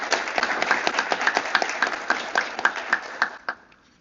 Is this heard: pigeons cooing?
no